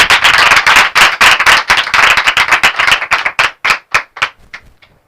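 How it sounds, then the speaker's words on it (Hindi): Loud, dense clapping from a church congregation fills the first seconds, then thins into scattered individual claps that fade out toward the end, with no voices. "आए जोरदार तालियां लगाएं यीशु के नाम के लिए।"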